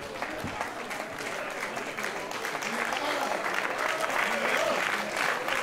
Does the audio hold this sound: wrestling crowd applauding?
yes